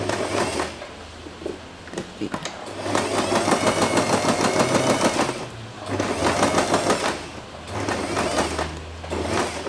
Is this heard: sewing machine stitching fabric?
yes